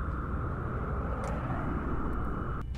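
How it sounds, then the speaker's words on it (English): Interceptor jet engines in the video game XCOM Long War give a steady, loud roar that holds evenly throughout, with a brief higher burst near the end. "Turn your engines on, Pyro."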